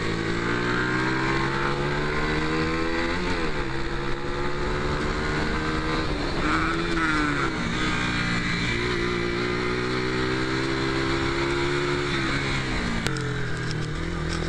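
A motorcycle laps a race circuit, its engine droning loud and close with rising and falling pitch as the rider accelerates and eases off through the corners.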